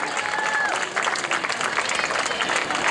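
A crowd at a talent show applauds steadily, dense clapping filling the room for a few seconds, with a brief voice rising over it.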